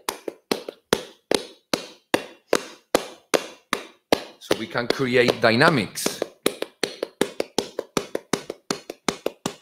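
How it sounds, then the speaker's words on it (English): Flamenco palmas sordas, muted hand clapping with cupped hands: a steady, close run of soft, dull claps in even rhythm, briefly overlapped by someone speaking in the middle. "or muted hand clapping."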